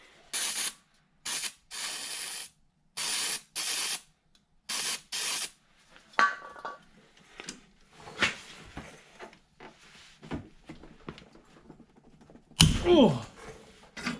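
Aerosol undercoating sprayed onto the underside of a Jeep Cherokee in bursts of hissing spray, about six short blasts with silent gaps, followed by scattered clanks and rattling of tools and parts.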